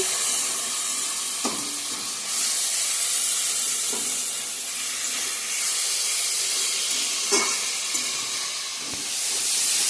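Curry sizzles and hisses steadily in a hot pan as it is sautéed, with occasional soft knocks of stirring breaking the constant frying noise.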